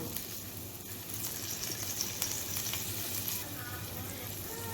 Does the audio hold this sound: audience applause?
no